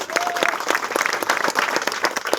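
A political rally crowd claps to welcome a speaker, a dense, lively round of applause with distinct individual claps; a voice briefly rises above it.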